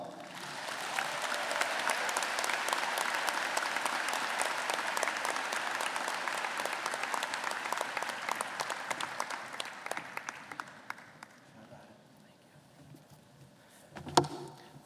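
A graduation audience applauds for speaker Matthew Merlo, with sustained, dense clapping from a crowd that fades out after about ten seconds, followed by a single louder thump near the end.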